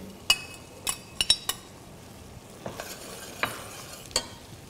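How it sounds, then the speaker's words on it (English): Andouille sausage cooks with a faint sizzle under repeated sharp metallic clinks of utensils against a pan, spaced irregularly and close by. "right now I'm grilling the andouille sausage"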